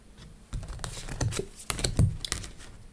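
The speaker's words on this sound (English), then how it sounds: "So let's cut the deck." A deck of tarot cards is cut by hand, a brief patter of soft card slaps and riffles at close range, quiet and without any talk.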